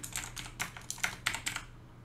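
Fingers type a command on a computer keyboard, with eight or so quick, light key clicks in an uneven rhythm, faint and close with no talking.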